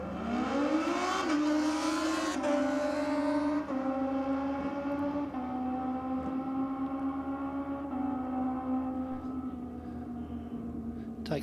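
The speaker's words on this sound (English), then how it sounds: "And we have Gareth Wilcox on the Kawasaki ZX14R." A Kawasaki ZX14R drag racing motorcycle at a dragway screams loudly through rising gear changes, its high engine whine stepping up at each shift and then holding a sustained pitch as it runs down the strip.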